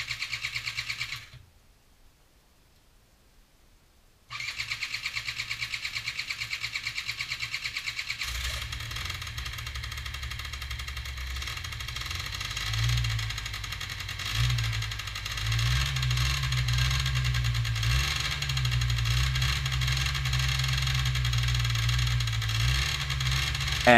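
Motorcycle engine running on a salvaged carburetor, a low uneven idle that starts after a short silence and rises and falls as the throttle cable is pulled, close and steady.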